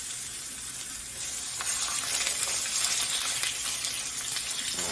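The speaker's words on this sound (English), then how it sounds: "we're going to fry them in batches" Pork chops sizzle and crackle in hot oil, fried in batches, a dense bright frying hiss that grows louder after a moment and carries on steadily up close.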